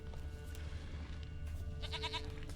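A goat bleats in The Witcher 3, a wavering tonal cry that arrives late and stays moderately near over a steady in-game ambient bed.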